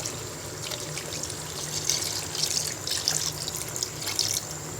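Water runs and trickles steadily into a pan of hilsa fish in tomato gravy for several seconds, a continuous splashing stream with no voices.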